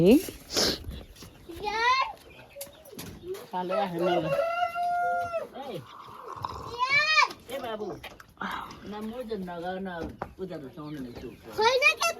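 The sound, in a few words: rooster crowing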